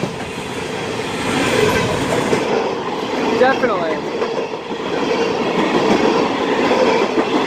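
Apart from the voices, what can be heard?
CSX freight train speeding past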